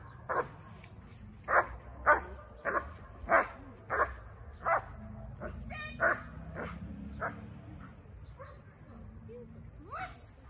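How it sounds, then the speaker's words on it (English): A dog, a Quando vom Eisenherz, barks repeatedly at close range in a steady series of sharp woofs, tapering toward the end as a person speaks in the background. "He's supposed to be barking and he's supposed to be kind of jumping up."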